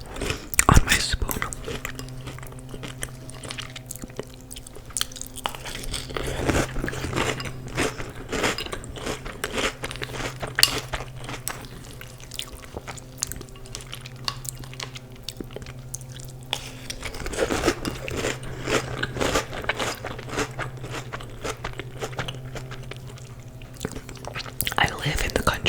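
Trix cereal is eaten close to the microphone, with crisp repeated crunches and wet chewing that continue throughout, mixed with soft whispered talking.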